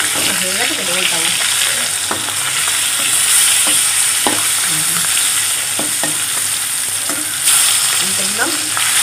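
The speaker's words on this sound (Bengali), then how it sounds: "এই মাছটাকে মাখানো হয়েছে, আমি এবারে ভাজবো।" Katla fish pieces frying in hot oil in a pan, a loud continuous sizzle close by, with occasional clinks and scrapes of a spatula and faint voices in the background.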